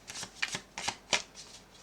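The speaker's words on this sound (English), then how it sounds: "Just one more shuffle if there's any other cards here." A deck of tarot cards is shuffled by hand, giving four quick, crisp riffling bursts close up in a quiet room.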